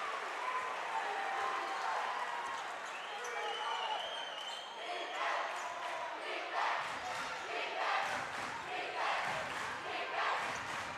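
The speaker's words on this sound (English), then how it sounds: "The Oceanside crowd coming live here" The Oceanside home crowd cheers and roars throughout a varsity high school basketball game against Medomak Valley, a steady swell of voices rising and falling under close play-by-play commentary, with occasional ball bounces and sneaker squeaks.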